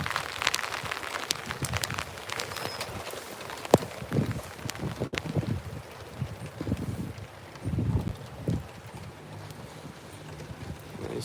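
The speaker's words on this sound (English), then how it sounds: "Finally, some of that needed rain." Rain falling during a summer thunderstorm, heard as a steady close patter with irregular drips and taps hitting nearby surfaces, continuing throughout with no voices.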